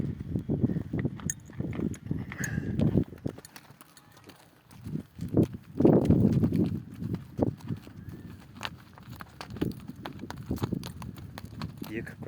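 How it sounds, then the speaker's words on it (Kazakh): Two chestnut Kazakh horses with white blazes walk along, their hooves clip-clopping in an uneven rhythm that pauses briefly midway, while people talk over and between the steps. "Екі күрең қасқа атты міндік."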